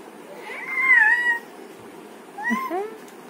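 A voice imitates a cat's meow twice, a long wavering mew followed by a shorter rising one, close and clear.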